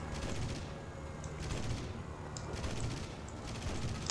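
Gunfire in the War Thunder video game, heard as dense, continuous bursts of shots that roll on at a steady loud level for the whole stretch, with no talk over them.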